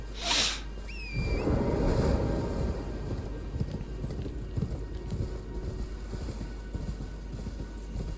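A horse gallops in the video game Elden Ring, a brief sharp whoosh and tonal chime giving way to a steady drumming hoofbeat rhythm over a low rumble, with no voices.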